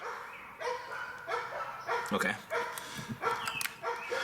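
Neighborhood dogs bark repeatedly in scattered bursts, moderately distant and overlapping, with one short spoken word among them.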